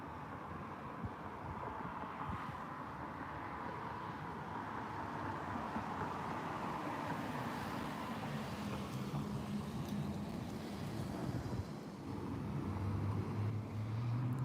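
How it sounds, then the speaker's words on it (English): A vehicle engine drones from behind on a street, a low rumbling hum that stays steady and builds slightly toward the end, mixed with wind buffeting and broadband outdoor noise. "Hearing the engine sound right after he turns behind me."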